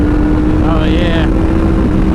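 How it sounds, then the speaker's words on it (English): A Honda VFR800 motorcycle engine revs up sharply as VTEC engages, rising in pitch for about half a second and then cutting back, set against a steady drone of wind and road noise. "VTEC kicks in, man"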